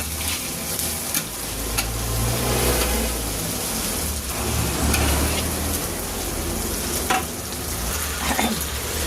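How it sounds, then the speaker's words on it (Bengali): Tomatoes frying in hot oil while being stirred, a loud continuous sizzle with scraping and occasional clinks of a spoon against the pan, close up and without talk. "টমেটোটা তেলে এরকম ভেজে নিলে না টকটা থাকে না।"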